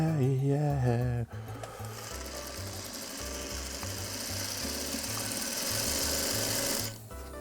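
A sewing machine runs steadily, stitching fabric for a quilt block, its rapid mechanical chatter close and continuous after a brief burst of sung music at the start.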